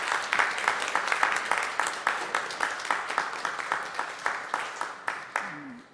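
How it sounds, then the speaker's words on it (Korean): Congregation applauding during a Sunday worship service at a church in Daegu, steady dense clapping from many hands filling the room for several seconds before fading out at the end. "우리 영광의 박수 올려드리겠습니다."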